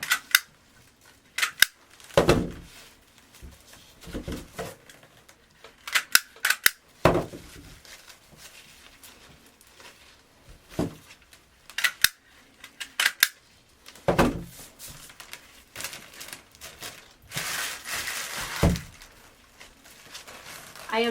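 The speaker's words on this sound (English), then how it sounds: "you're going to need to curl the edges and then staple them together" Curled mesh edges being fastened for a hand-tied rose bouquet, with sharp stapler clacks and crinkling rustle arriving in irregular bursts between quiet pauses, recorded up close.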